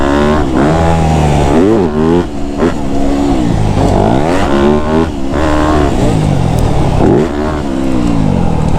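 A dirt bike tears down a supercross straight rhythm track, its engine revving hard and close in rising and falling sweeps as the rider blips the throttle over a rapid series of jumps, loud and steady throughout.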